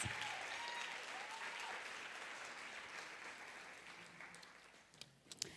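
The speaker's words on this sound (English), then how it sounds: "So please give all of our volunteers a round of applause." An audience at a women's financial empowerment summit closing ceremony applauds its volunteers, sustained dense clapping that gradually thins and fades toward a few scattered claps.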